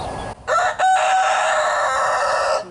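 A mother hen with her baby chicks in her own pen calls out in loud, drawn-out clucking bursts, one sustained call after a short opening note, close by with no talking.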